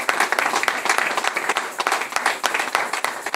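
A church congregation applauds during a French-language worship service: dense, continuous clapping from many hands, close and steady throughout without a break.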